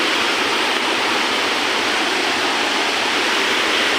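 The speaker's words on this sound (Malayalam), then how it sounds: "ഒരു അടിപൊളി വെള്ളച്ചാട്ടം, നല്ല പ്യുവർ വെള്ളമാണ് കേട്ടോ" A pure mountain waterfall beside the road to Malakkappara roars in a loud, unbroken wash of white noise, close and steady with no voices.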